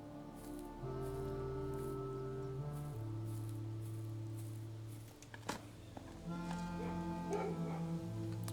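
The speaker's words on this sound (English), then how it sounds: "Hear the dogs barking." Dogs barking in the video game Blue Prince, a few faint distant yips and barks beneath sustained musical tones and a soft rustling bed.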